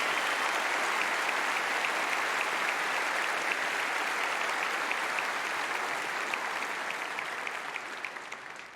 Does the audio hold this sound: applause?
yes